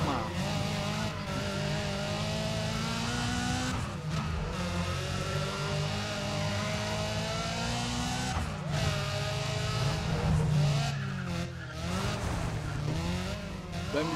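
A car in the Need for Speed ProStreet racing game, with a steady engine roar, tire squeal and skidding under hard braking, loud and continuous with gear-like pitch sweeps across the stretch.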